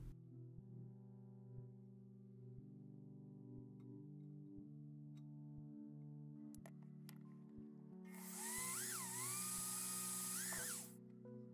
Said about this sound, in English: this is the first time I've ever drilled through metal